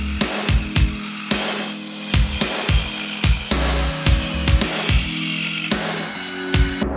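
Wood pieces for roof framing are cut with a saw in rapid repeated strokes, loud and close, with some rhythmic knocks and a steady background hum underneath and no voices.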